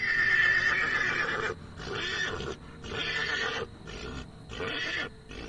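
Lusitano stallions neigh and whinny as a played sound effect: several loud, shrill, quavering calls in bursts separated by brief pauses, with no talk over them.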